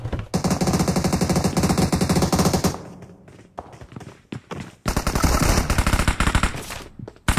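Gunfire in PUBG Mobile during a mecha fusion match, long loud bursts of rapid automatic fire broken by a pause of scattered single shots and thuds before another sustained volley.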